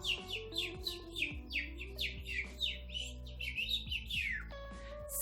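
Small birds chirp and twitter in quick, bright bursts over a soft musical background in a children's story, the calls dense and lively throughout, with no speech.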